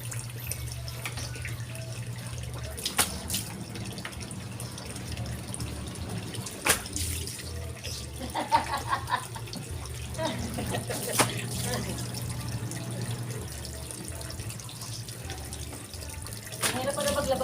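Laundry being washed by hand in water, with watery splashing and scattered sharp clicks over a steady low hum, under a person talking throughout.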